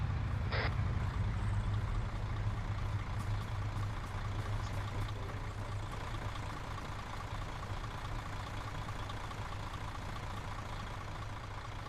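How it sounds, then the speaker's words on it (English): A truck drives in a military simulation video game. Its engine gives a steady, loud, continuous rumble throughout, with no talk. "Oh, you're driving the truck."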